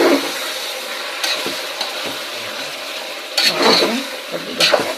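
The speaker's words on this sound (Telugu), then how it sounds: "కొద్దిగా స్మెల్ వచ్చేదాకా వేయించుకోవాలి." Ginger, garlic and coriander paste fries in a pan for a vegetable pulao, a soft steady sizzle broken by several scraping stirs of a spoon against the pan.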